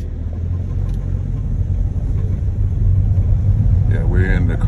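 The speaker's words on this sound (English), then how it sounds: "Yeah, we're in the car." Steady low engine rumble and road noise fill the cabin of a moving car, continuous throughout, with a brief higher tonal sound near the end.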